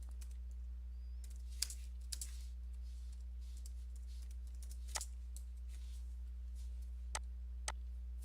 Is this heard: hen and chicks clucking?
no